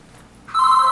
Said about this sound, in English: Phone is ringing, y'all.